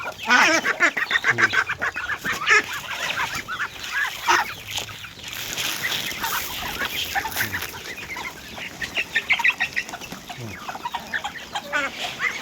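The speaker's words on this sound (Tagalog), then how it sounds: "Kukuha na ng mga sisiw." Chickens and chicks cluck and chatter nonstop while being fed corn outdoors in the countryside. The calls are dense, overlapping and close, with bursts of louder squawking throughout.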